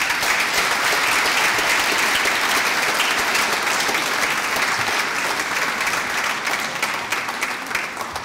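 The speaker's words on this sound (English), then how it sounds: "So double applause." Loud, dense applause from a graduation ceremony audience for a cum laude master's candidate in Human Movement Sciences, a steady wash of many clapping hands sustained throughout and tapering slightly at the end.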